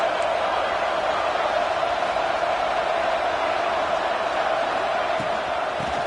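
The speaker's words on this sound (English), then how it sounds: "Listen to the crowd energy here in the early going." Steady roar of a stadium crowd at a college football playoff game with the Fighting Illini, a dense, continuous wash of cheering that holds at constant loudness throughout.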